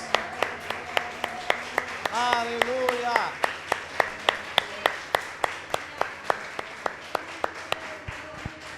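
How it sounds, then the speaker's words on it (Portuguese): A church congregation claps in a steady rhythmic beat, each clap sharp and evenly spaced, while a voice sings and calls out over it. "Aplauda o Senhor com alegria."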